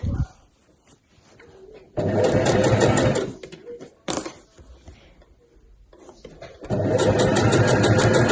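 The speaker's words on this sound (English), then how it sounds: "I'm sewing with my base on the bottom and my bag on the top." A sewing machine stitching the base onto a weekender bag, running in loud steady bursts of rapid whirring with pauses between them, close by, with a quiet voice during the gaps.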